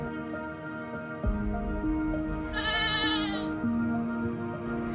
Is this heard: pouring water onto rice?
no